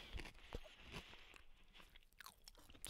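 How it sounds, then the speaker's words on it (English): Crunchy chocolate snack bitten and chewed close up, with a few sharp crunching bites followed by softer chewing; no talking. "Oh, that crunch with the chocolate."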